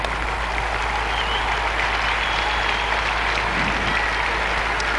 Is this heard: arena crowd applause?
yes